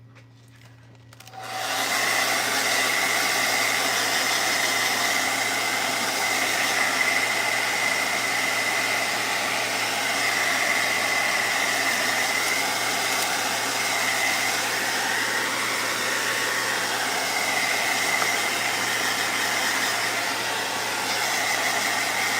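A blow dryer switches on after a brief quiet moment and then runs steadily with a loud, continuous whooshing hum while drying a chunky wooden snow globe craft.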